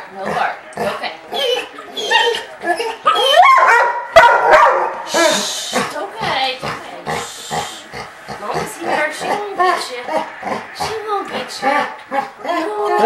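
A puppy barks and yips in repeated sharp bursts close by while a grown Golden Retriever is nearby, with people talking over much of the commotion.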